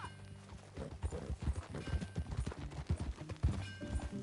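Rhythmic video game horse hooves clip-clopping at a steady walking pace, fairly close, with a low background hum and no talking.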